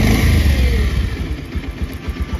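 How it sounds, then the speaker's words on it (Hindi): A Bajaj Pulsar 125 motorcycle engine, one with a throttle-position sensor fault, cranks and catches, then settles into a steady low idle with a rhythmic chugging pulse, close and loud with no talking. "चलो बाइक को स्टार्ट करते हैं"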